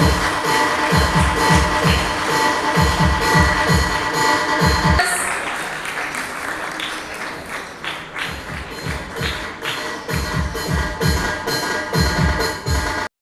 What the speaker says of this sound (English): Give a big round of applause, all of you.